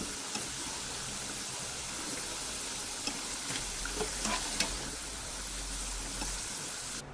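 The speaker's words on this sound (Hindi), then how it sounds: "इसे भी हम 2 मिनट के लिए लो टू मीडियम फ्लेम पे फ्राई करेंगे" Potato pieces fry in oil in a pan over low to medium flame, a steady close sizzle with a few small pops and crackles throughout and no talking.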